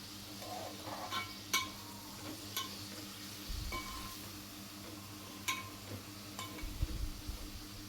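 Spinach stir-fried with green chilies in a pan, a soft steady sizzle beneath occasional sharp clinks of a spatula scraping metal and a few low thumps of stirring.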